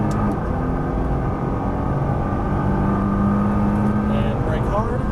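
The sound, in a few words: Nissan GTR engine accelerating on track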